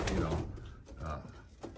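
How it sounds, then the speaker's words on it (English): Pigeons in a racing pigeon loft give soft, low cooing calls at close range, with a voice talking over them. "there's some very, very nice pigeons in here"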